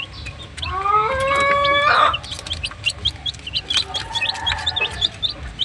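Gamefowl roosters in a gameyard give a loud close crow with layered harmonics, followed by scattered short clucks and chirps from several birds against steady outdoor background noise.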